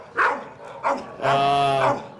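A dog barks twice in short, sharp yaps, then lets out a longer drawn-out whine or howl, close and fairly loud with no talking over it.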